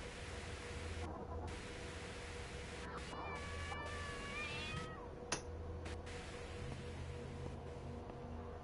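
A cat meows inside the horror video game Frightence, a few rising, wavering calls in the middle of the stretch over a steady hiss of game ambience and music, fairly close and clear.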